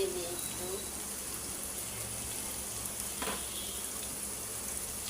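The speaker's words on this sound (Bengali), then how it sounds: "ভাতের ফ্রাইড রাইসের চালটা আমি লবণ দিয়ে সিদ্ধ করছি" Rice for fried rice boils in salted water in a pot, a steady, even bubbling hiss that continues without a break.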